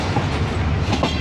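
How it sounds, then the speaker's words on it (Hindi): The Shalimar Express passenger train runs along the rails in Pakistan, a loud, steady rumble with wheel clatter close by. "अब शालीमार एक्सप्रेस ये हमें बादामी बाग से भी पहले ही मिल गई है"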